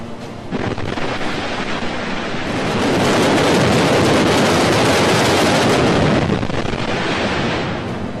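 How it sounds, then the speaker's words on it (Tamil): A Falcon 9 rocket exploding on the launch pad: a huge, sustained roaring blast that builds and rumbles for several seconds, broadband and loud, echoing outward. "2016 ஏவுதளத்திலேயே ஒரு ஃபால்கன் 9 ராக்கெட் வெடித்து சிதறியது."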